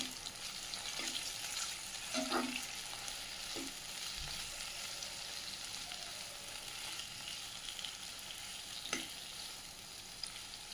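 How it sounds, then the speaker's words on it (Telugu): Tomatoes fry with onions in a pan for capsicum rice, making a quiet, even sizzle with a few soft clinks and scrapes of stirring, and no one speaking. "ముందుగా మనం పక్కన పెట్టుకున్న టమాటా వేసి ఫ్రై చేసుకోవాలండి టమాటా అనేది బాగా సాఫ్ట్గా అయిపోయే వరకు ఫ్రై చేసుకోవాలి"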